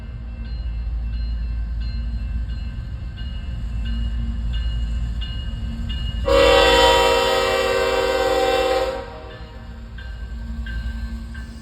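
An Iowa Interstate through freight train heads west near the Mississippi River, its steady close rumble running throughout, broken by one loud horn blast of about three seconds midway before the rolling noise carries on alone.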